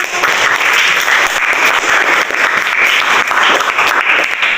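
Schoolchildren in a classroom clapping together during a lesson, a loud, close, steady burst of many hands lasting several seconds without letup, dense and bright with individual claps blurring together.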